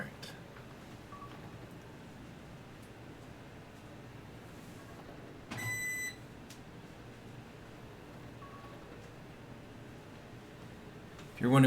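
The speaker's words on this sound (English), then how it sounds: "If you're wondering what the beep was, that was my my little space heater. I just turned it off." A small space heater switched off gives one short, clear electronic beep of about half a second over steady low room hum.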